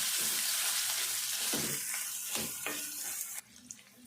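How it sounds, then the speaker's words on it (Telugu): Onions fry in a pan with ginger garlic paste and mint for a chicken rice dish, a close steady sizzle with scraping stirs of a spoon, then the sizzle drops away sharply near the end. "ఉల్లిపాయ కలర్ వచ్చేదాకా వేగాలి"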